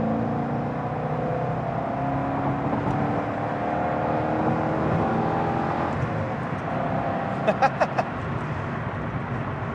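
Corvette C6 Z06 engine accelerating onto a freeway on-ramp on an overcast day, a steady loud in-cabin drone with rising harmonics throughout and a few sharp clicks near the end.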